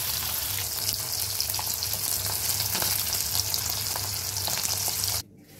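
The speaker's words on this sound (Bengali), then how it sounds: "তো দেখো আমি মাছটা ভাইজা নিতেছি" Pieces of tilapia fish frying in hot oil, a continuous dense sizzle and crackle that cuts off abruptly near the end.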